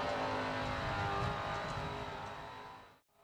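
An SRX race car from SRX: The Game roars loud and close, its engine note holding steady then fading away before cutting off abruptly near the end.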